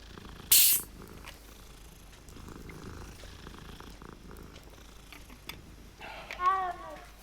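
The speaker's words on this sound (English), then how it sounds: "Pet the cat." A cat in the Hogwarts Legacy video game purrs softly as it is petted, with a brief bright burst near the start and a short meow-like call toward the end, over quiet game ambience.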